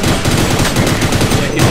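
Rapid bursts of automatic gunfire and shots fill a Sven Co-op game fight with a dinosaur enemy, loud and continuous throughout with no pause.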